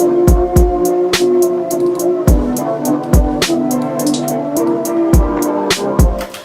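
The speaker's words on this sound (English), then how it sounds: "Just a real simple pattern of the hi-hats." FL Studio beat with a simple, steady hi-hat pattern ticking over booming 808 sub-bass hits and a sampled melodic loop, loud and rhythmic with no voices.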